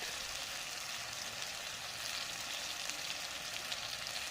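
Mutton frying in a pan with tomatoes, turmeric and spices: a steady, even hiss and sizzle that holds without a break, close and fairly loud, with no talking.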